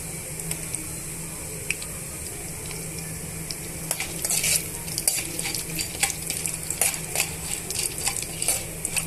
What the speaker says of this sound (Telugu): కొన్ని పల్లీలు తీసుకొని ఇవన్నీ కూడా ఈ పోపు గింజల్లో వేసేస్తున్నాను